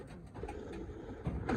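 Stock pigeons in a loft coo softly and repeatedly nearby, with low burbling calls and faint rustling around them.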